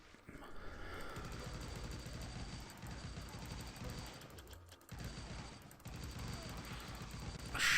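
Sustained automatic gunfire rattles in a video game, dense and continuous, with two brief breaks and a louder burst at the end.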